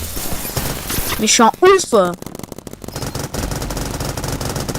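Paintball guns fire in a Roblox game as rapid clicky bursts, with a spam of shots at a turret, under excited talk from a player.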